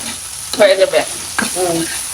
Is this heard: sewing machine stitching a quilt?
no